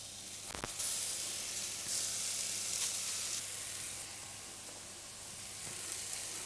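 Onion and tomato slices sear in a hot pan with a bright, hissing sizzle that swells and fades, with a few sharp pops and clatters when the slices are set down.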